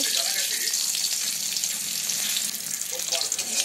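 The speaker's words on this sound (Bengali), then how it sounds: "তেল গরম হয়ে এলে এর মধ্যে দিয়ে দেব দুটো তেজপাতা আমি ছিঁড়ে নিয়েছি সেটা, দুটো শুকনো লঙ্কা, হাফ চামচ পরিমাণ সাদা জিরে" Torn bay leaves, two dried red chillies and half a spoon of cumin seeds frying in hot oil, a loud continuous close sizzle with faint crackles throughout.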